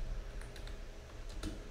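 Soft, scattered computer keyboard keystrokes from typing Python code for an Armstrong number program, a few light clicks spread irregularly over a quiet background.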